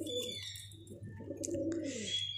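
Pigeons cooing close by, a few soft throaty calls in a row, faint and alone.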